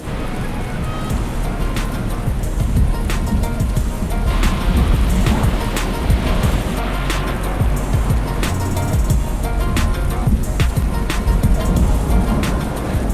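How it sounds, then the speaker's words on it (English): A car pushes through floodwater on Horn Island during the wet season, a steady loud wash and churn of water against the vehicle with an engine rumble beneath, continuous throughout. "she was a bit concerned about driving through the flooded water"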